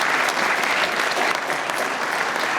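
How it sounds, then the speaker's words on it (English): An audience applauds a panel of four speakers at a policy discussion, a dense, steady clapping that fills the whole moment without letting up. "I would like to ask for an applause for our 4 panel members."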